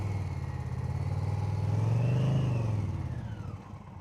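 A motorcycle pulls away as the clutch is let out during a riding practice exercise, its engine note rising and swelling in a smooth rev before easing off, close by and with no talk.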